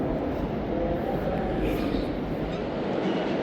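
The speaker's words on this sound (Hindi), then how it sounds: "दोपहर 1:15 पर दोस्तों ट्रेन रवाना हो रही है मुल्तान कैंट से" The Shalimar Express pulls out of Multan Cantt, a steady low rumble and rolling rattle heard from inside an AC Standard coach, continuous and fairly loud.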